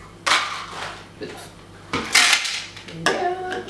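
Ice cubes for berry slushies tumble into a blender jar in three loud, clattering bursts with brief pauses between them, while people chat nearby.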